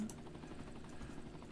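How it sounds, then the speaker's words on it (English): Steady low whirring and thumping of a helicopter rotor in the city-building game Cities: Skylines, droning continuously at an even level throughout. "Okay, helicopter, that's really loud."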